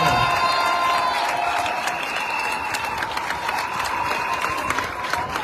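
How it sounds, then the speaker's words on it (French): An audience at a Gabonese civil society political gathering breaks into loud, sustained applause, a dense wash of clapping with some cheering that holds steady throughout, with no speech. "que je vous demande d'applaudir très fort"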